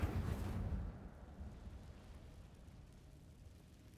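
A burst of fire from the Incendio spell in Hogwarts Legacy, a loud whooshing eruption that fades quickly into a low lingering rumble.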